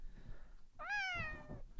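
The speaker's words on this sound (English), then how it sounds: "We're brought to you by a screaming cat." A cat lets out one drawn-out, wailing meow in a living room. It is close and fairly quiet, and it rises and then slowly falls over about a second.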